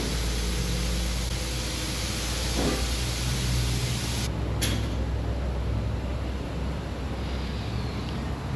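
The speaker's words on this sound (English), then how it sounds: "Clean that area off with a little bit of brake clean so my paint would stick." Brake cleaner sprayed onto the engine around the timing cover and oil pump area of a Honda Crosstour, a steady close hiss that runs continuously with one brief break midway.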